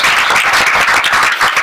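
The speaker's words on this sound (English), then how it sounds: "A round of applause for our National Merit Commended students." Close, loud audience clapping at a school board meeting honouring National Merit Commended students, a brisk burst of many hands with clearly pulsing claps.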